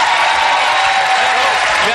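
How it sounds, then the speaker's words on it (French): A French television studio audience applauds the Red team in a dense, continuous burst of clapping lasting a couple of seconds, with some speech faintly mixed in. "On applaudit l'équipe des Rouges."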